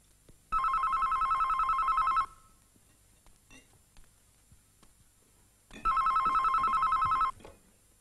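A telephone rings in a quiet room, two long electronic trilling rings separated by a few seconds of near silence, close and clear with no talking.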